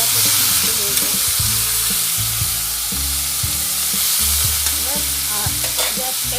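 Vegetables fry in hot oil in a pan for a badam bahar nut dish, a steady loud sizzle broken by repeated scraping, clattering strokes of stirring throughout, with no talking.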